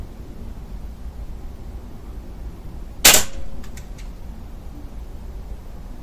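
A single sharp air rifle pellet shot, close and crisp, with a short ringing tail over a steady low background hiss.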